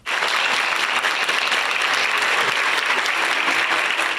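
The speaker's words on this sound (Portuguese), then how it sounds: "Na abertura da Semana da Poesia, Elisete foi aplaudida de pé." Standing ovation from the audience at the opening of a Poetry Week held for a poet serving her sentence at an APAC prison, dense sustained clapping, loud and steady after a sudden start, with no talk.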